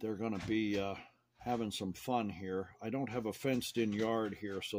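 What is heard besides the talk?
No everyday noises stand out.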